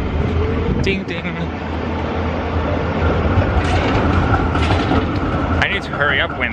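City tram passing on Paradeplatz in Zurich, a loud rumbling rail roll with squeals and a bell-like ding near the end, heard close on a busy street.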